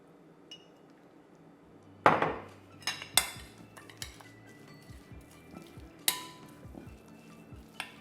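Steak fries tossed in oil with garlic, onion, parsley and cilantro: a utensil scrapes and clinks against the pan in irregular bursts over a faint, low sizzle.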